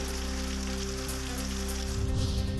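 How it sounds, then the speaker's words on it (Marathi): Rain patters steadily on a surface, a soft continuous hiss over a low electrical hum, with no voices. "अचानक आलेल्या पावसाने शेतकऱ्यांची तारांबळ"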